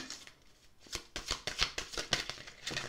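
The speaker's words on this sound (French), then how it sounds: "on va tirer une carte plume" Cards from a feather-themed oracle deck being shuffled and drawn, a string of quick papery flicks and slaps, close and fairly quiet, in an irregular rhythm.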